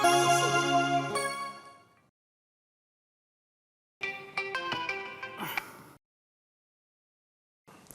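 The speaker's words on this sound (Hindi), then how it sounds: "अरे ये किसका फोन है यार, देख जरा।" A mobile phone ringtone plays a bright melodic tune indoors on a rainy night, ringing in two bursts separated by silence, with a third starting at the end.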